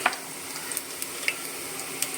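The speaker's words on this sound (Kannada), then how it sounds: "ಇವಾಗ ಅದಕ್ಕೆ ಒಂದು ಅರ್ಧ ಸ್ಪೂನು ನೋಡಿ ಸಾಸಿವೆ ಹಾಕ್ತಾಯಿದ್ದೀನಿ" Mustard seeds crackle in hot oil beside browned garlic for an Uttar Karnataka style khara byali tempering: a soft, steady sizzle with scattered sharp pops, quiet and close, with no voices.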